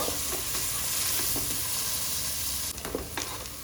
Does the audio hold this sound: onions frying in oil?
yes